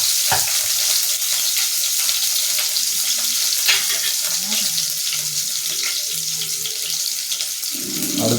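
Finely chopped green chillies frying in a pan for goat blood fry, making a loud, steady, close sizzle throughout with occasional stirring clatter.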